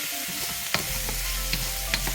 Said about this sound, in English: I lowered my flame a little bit because this wok was extremely hot and I don't want my garlic to burn